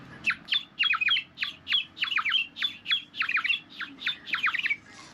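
Warbling, bubbly bird-like trills from a ceramic water whistle, repeated in quick bursts with short pauses, loud and close, imitating birdsong over a faint low background hum.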